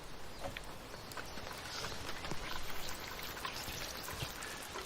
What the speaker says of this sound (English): an Englishman in his garden watering his plants as the rain hammers down